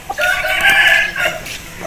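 A Lakha Aseel rooster crows once, loud and close, in a single drawn-out call that rises and then trails away.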